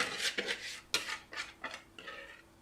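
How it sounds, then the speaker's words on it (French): Chocolate semolina cake batter going into a baking pan, heard as a few close scraping and clinking scrapes of a utensil against the bowl and pan, spaced irregularly and fairly quiet. "je vais verser tout mon appareil dedans"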